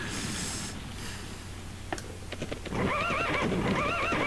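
Horses in the video game The Legend of Dragoon whinny and neigh with high, wavering calls over a steady ambient hum, preceded by scattered clicks and hoof-like taps.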